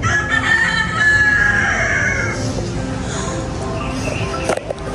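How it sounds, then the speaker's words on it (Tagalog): A rooster crows loudly over outdoor background noise in Cavite, its drawn-out call filling the first half before trailing off into ambient sound. "May manok po doon."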